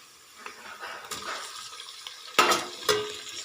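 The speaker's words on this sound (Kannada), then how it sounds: "ಈಗ ಟೊಮೊಟೊನ ಹಾಕಿ" Tomatoes go into onions already frying in a pan for rice upma and are stirred, giving close scraping and clattering over a soft sizzle with two sharper knocks near the end.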